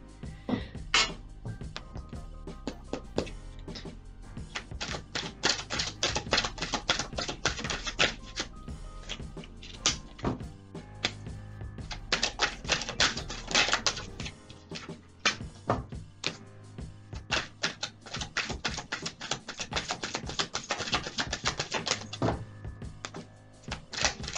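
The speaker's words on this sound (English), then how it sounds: "So I'm going to be shuffling on camera, okay?" Tarot cards shuffled on camera, giving a steady run of crisp riffling clicks and papery slaps that come in dense bursts with short pauses, close and fairly loud, with no talking.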